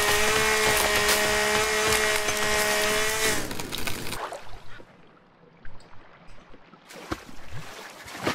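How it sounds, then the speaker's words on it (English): A chainsaw cuts wood in The Forest video game, a loud steady buzzing engine drone for about three seconds before it cuts off, leaving scattered knocks and clatter. "This chainsaw is really good, but really bad in the same time."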